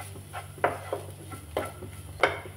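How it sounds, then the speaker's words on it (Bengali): A spatula stirs boiled vegetables in a pan on the stove for a sandwich filling, making a few soft scraping strokes and light knocks against the metal over a faint low hum. No one speaks. "হালকা করে একটু নেড়ে নেব"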